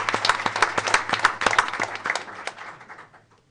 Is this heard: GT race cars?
no